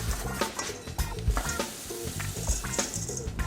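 Dry ingredients of oats, cinnamon and salt being whisked together in a bowl for oatmeal raisin cookie dough, a steady scraping rustle with a few sharper clicks of the wire whisk, close and alone.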